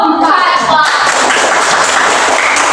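Classroom of primary school pupils clapping for a presenting group, a voice at first and then a dense, loud burst of applause that continues steadily.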